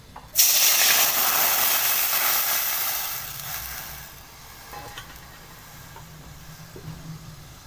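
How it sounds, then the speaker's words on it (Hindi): Two cups of milk poured into a pan of hot melted ghee, a sudden loud hissing sizzle that bursts in at once, then gradually fades and settles to a quieter simmering crackle, no talking. "इसके अंदर डाल देते हैं, घी मेल्ट हो चुका है, इसके अंदर डाल देते हैं 2 कप दूध।"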